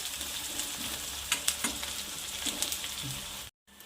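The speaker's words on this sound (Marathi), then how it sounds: "कांद्याला छान पकू द्यायचं आहे" Onions for Nagpur-style Saoji dal kanda fry in a pan with a steady close sizzle and occasional stirring clacks, ending in a brief cut to silence.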